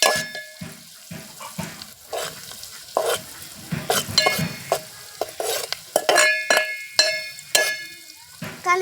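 A spoon stirs turmeric through a frying dish in a pan, giving repeated scraping and clinking strokes over a soft sizzle, close and fairly busy throughout.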